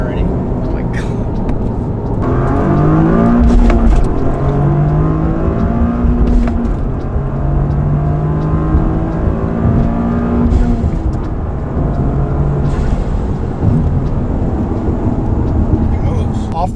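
Tuned Toyota GR Corolla accelerating hard, engine note climbing through repeated rising pulls with gear changes, loud and continuous inside the car while people talk over it.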